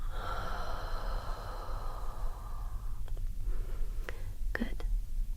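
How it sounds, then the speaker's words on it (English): Slow exhaling breath during an ASMR relaxation session with a witch energy-cleansing theme, a soft, close airy rush that fades out, followed by a few faint mouth clicks and small breathy sounds. "And breathe out."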